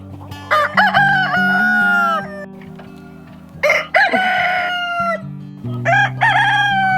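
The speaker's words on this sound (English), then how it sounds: "We're in a Rooster Crow Showdown." Roosters trade three loud, drawn-out crows in quick succession, close and clear, with soft clucking in the gaps.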